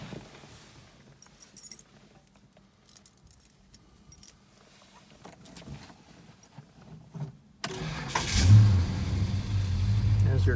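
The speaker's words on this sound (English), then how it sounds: "why don't we fire this thing up and see what it sounds like" A 1969 Dodge Charger R/T SE being started, with keys jangling and faint clicks and shuffling inside the car before the engine catches near the end and settles into a loud, steady rumble.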